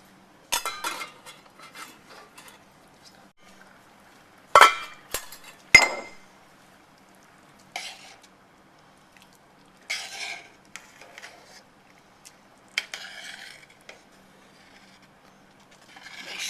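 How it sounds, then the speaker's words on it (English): A spoon stirs rice with salsa in a metal pot, giving intermittent clinks and scrapes against the sides in separate bursts with quiet gaps between them; no voices. "Make sure you stir frequently."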